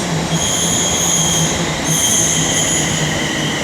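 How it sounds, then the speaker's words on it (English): A London Northwestern Railway passenger train, led by unit 350 119, rumbles steadily past at close range arriving at Coventry station, with high metallic wheel squeals ringing throughout and no voices. "now approaching is the 11:15 London Northwestern Railway service to Birmingham New Street from London Euston"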